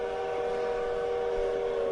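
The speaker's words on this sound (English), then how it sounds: "The whistle of the train sounded like a call to adventure," A train whistle blows as one long, steady, tonal blast that holds for the full two seconds, loud and close, with no other sound beside it.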